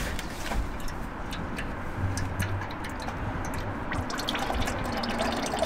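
Engine oil drains from a Ford Fiesta 1.4 Mk7 during an oil change, a steady liquid trickle with scattered drips, close and moderately loud with no talking.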